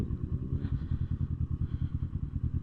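A Kawasaki Versys 650 touring motorcycle is ridden in Korat, Thailand, its engine giving a steady, close, low pulsing thrum with a rapid rhythmic beat throughout.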